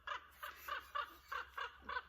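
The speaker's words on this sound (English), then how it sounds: "You guys hear that crow?" A crow caws outdoors in a steady series of about seven harsh, evenly spaced calls, moderately close and clear against a quiet background.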